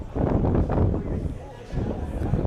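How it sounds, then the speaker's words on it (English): Strong gusting wind at an outdoor rugby match buffets the microphone in heavy, uneven low rumbles that rise and fall across the whole stretch, with someone talking over it. "There's a really strong gusting wind."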